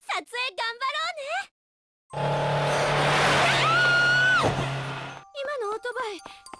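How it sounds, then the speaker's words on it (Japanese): A motorcycle roars close by with screeching, skidding tires, loud for about three seconds and framed by short bursts of talk before and after. "今のオートバイ、 僕を狙っていた。"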